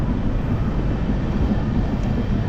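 A steady, deep rumble of the 22588 Banaras–Sealdah Amrit Bharat Express rolling through Bardhaman, heard from inside a general-class coach. The low wheel and carriage drone stays constant throughout, with no voices.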